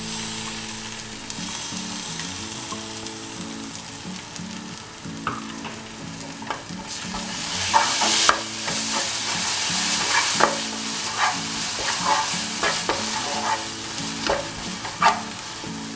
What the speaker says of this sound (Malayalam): ഞാൻ ഈ അരച്ചു വെച്ചിട്ടുള്ള മസാല ഇതിലേക്ക് ഇട്ട് കൊടുക്കുകയാണ്.